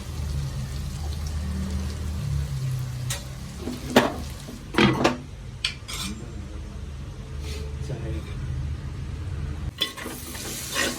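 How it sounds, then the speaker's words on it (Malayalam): Onions sautéing in oil in a pan for a Kerala mackerel chili fish curry, a steady close sizzle with occasional utensil scrapes and stirring clinks, and a voice speaking now and then. "ഉള്ളി കുറച്ചുകൂടെ നല്ലതായിട്ട് വാടിക്കോളൂ"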